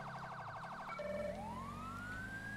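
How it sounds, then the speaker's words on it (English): A wailing police siren in the LSPDFR police game mod wobbles rapidly, then sweeps into a long rising tone over a steady engine-like rumble, loud and continuous throughout. "Some of the sirens you will hear are not FHP related, like that last one"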